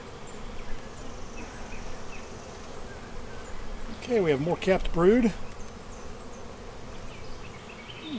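Honey bees buzz around an open hive during spring preparation, a low steady hum with a louder, closer swell of wingbeats midway as bees fly near, while a person talks briefly.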